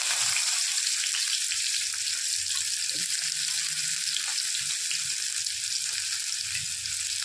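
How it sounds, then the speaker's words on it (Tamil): Chopped onions fry in hot oil for a mushroom thokku, giving a constant dense hiss and crackle that stays close and even throughout, with only faint low background movement and no talk. "குட்டியை கட் பண்ணி வச்சுருக்கிற வெங்காயம் வந்து கொஞ்சம் கொஞ்சமாக ஆட் பண்ணிக்கலாம்"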